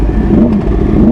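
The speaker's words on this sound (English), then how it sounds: "first ride on my new bike." Yamaha R1 motorcycle engine running steadily on a first ride, a loud continuous low drone with a faint rise and fall in pitch over about a second.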